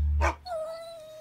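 A dog gives a single sharp, close bark, followed by a thin, drawn-out whining tone that fades.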